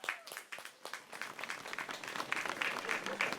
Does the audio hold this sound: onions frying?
no